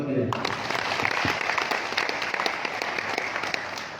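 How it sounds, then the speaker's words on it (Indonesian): Audience applause at a public lecture by a political party leader in Indonesia, a dense, steady burst of many hands clapping that carries on throughout at moderate loudness. "Tepuk tangan buat beliau."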